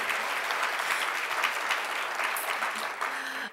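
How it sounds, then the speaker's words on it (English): Audience applause at a Gold Award presentation and celebration, a dense, sustained round of clapping from a sizable crowd that fades out at the end. "Can I just have a round of applause for my fellow Gold Awardees?"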